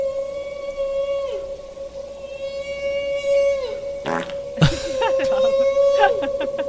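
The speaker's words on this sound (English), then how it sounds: "there you hear the whale, underwater" Underwater recording of a whale: long, steady tonal moans with sliding pitch, mixed with harmonic calls and a few sharp, raspy bursts, loud and sustained throughout.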